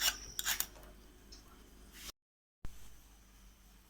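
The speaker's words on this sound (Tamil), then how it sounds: "இப்போ தோல் சீவி எடுத்துட்டு சின்ன சின்ன பீசஸாக கட் பண்ணிக்கலாம்." Raw mango being peeled and cut into small pieces for a mango jelly candy, heard as quick close scraping and knife strokes in the first two seconds, then a brief gap and quiet room tone.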